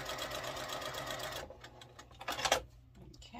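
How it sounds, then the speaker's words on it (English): Sewing machine stitching down the long edge of quilt pieces for a star block, a fast, close, rhythmic run of stitching that stops about halfway through, followed by a few handling clicks. "stitch down the long edge there"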